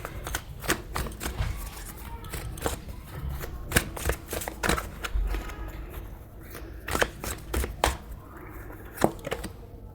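A tarot card deck being shuffled by hand, making a steady run of crisp papery flicks and taps close to the mic, with no talking.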